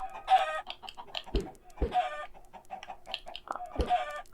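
Minecraft chickens cluck and squawk repeatedly with a few low thumps between, a busy farmyard sound with no talking.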